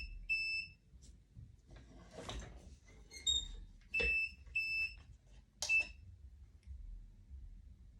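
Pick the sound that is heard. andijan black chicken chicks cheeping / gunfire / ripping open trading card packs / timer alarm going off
timer alarm going off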